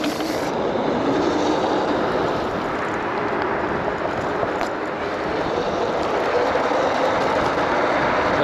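A Kaabo GT electric scooter speeding along a long strip, with loud continuous wind rush and road roar filling the whole stretch at a steady level, no talking.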